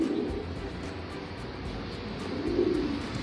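Pigeons in a loft in Taiwan coo softly, with a low murmuring call near the start and another swelling near the end over a steady background hum.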